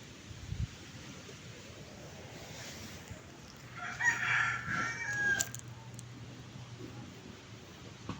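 Chickens cluck around a vegetable garden planted with string beans, and a rooster lets out one clear crow midway. The calls sound moderately close over faint outdoor breeze.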